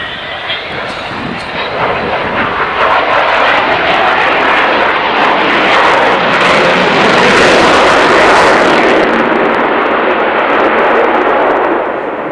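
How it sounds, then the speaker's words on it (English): An Avro Vulcan B1 jet bomber roars past in flight, a loud broadband rumbling jet noise that swells to a peak and slowly fades, with no talking. "That was the B1 variant of the Vulcan."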